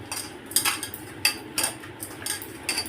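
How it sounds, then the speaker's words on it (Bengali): A spoon works through a batter of gram flour, a little plain flour and ginger paste in a bowl, giving repeated sharp clinks and scrapes in an uneven rhythm, close and fairly loud. "এবার দিয়ে আমি এটা ভালো করে মাখবো।"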